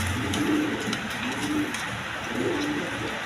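Large pigeons cooing at a pigeon farm, three soft low coos repeating at about one-second intervals, close by over a steady background hum.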